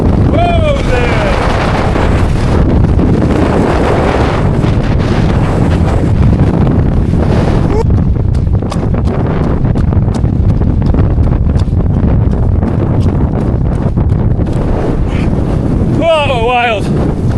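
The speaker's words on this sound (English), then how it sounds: "I've just got out of some wind." Strong wind on Skiddaw mountain roars and buffets the microphone continuously and loudly, while a voice exclaims briefly over the gusts near the start and the end.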